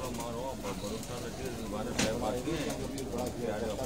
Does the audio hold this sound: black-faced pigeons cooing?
yes